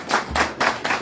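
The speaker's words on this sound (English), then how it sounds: "Round of applause." A few bursts of hand clapping in quick succession, close and fairly loud, at a community candidate forum.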